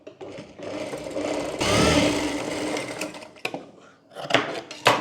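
Sewing machine stitching a folded seam on a blouse, a continuous whirring run of stitches that fades at the end into light handling clicks and rustles, with no voices.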